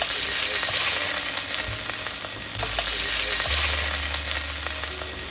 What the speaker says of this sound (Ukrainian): Постійно помішуючи, обсмажую.